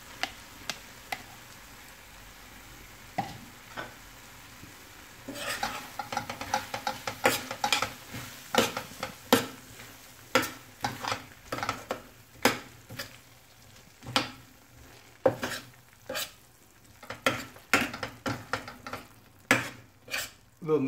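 Tindora (ivy gourd) masala with garam masala, coriander and curd simmering in a pan, soft bubbling under repeated sharp clicks and scrapes of a spoon stirring and knocking the pan.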